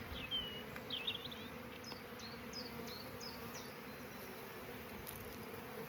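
Honeybees buzz softly and steadily as they are lifted into a new brood box outdoors, a faint continuous hum with a few brief higher buzzes near the start.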